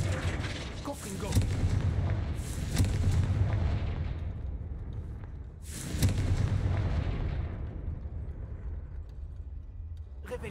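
Confringo blasting spell in Hogwarts Legacy, two heavy booming explosions a few seconds apart, each with a rumbling decay, amid game sounds and a voice casting spells.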